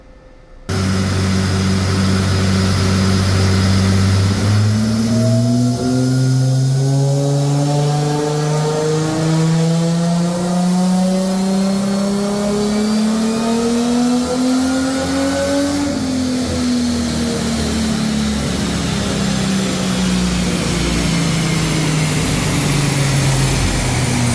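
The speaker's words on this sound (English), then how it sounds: "I'll see if I have a landscape dyno run that I can put in here, which will play right now" A tuned car engine revs hard on a chassis dyno, its loud droning note climbing steadily for about fifteen seconds and then falling as the throttle eases, close and continuous with a whining harmonic layer and no talking.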